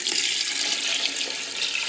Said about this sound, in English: So I have about 8 cups of water here.